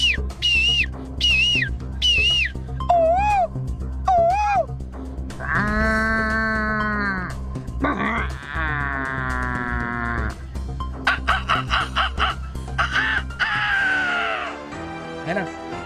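A comedian's voice imitates a flurry of dawn birdsong, shrill whistled chirps and trills in quick bursts, then longer warbling and bleating-like calls, loud and close over a steady low hum.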